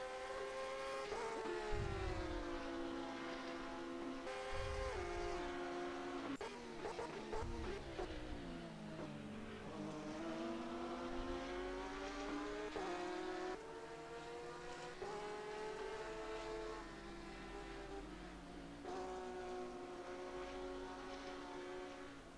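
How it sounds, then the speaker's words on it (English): A Porsche GT race car engine at Sepang in rFactor 2 howls through repeated throttle lifts and reapplications, pitch dipping and climbing in cycles, with other cars' engines blending in the background throughout. "You could hear the Porsche struggling to get it turned in, reapplying the throttle"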